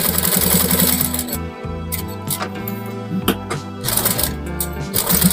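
A sewing machine stitching a men's shirt collar onto the body, with rapid mechanical clattering in bursts broken by brief pauses, close and fairly loud.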